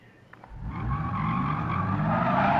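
A Chinese car in Gran Turismo 7 accelerates flat out from standstill, its engine note rising in a steady loud sweep from about half a second on, with a faint tyre squeal at the very start.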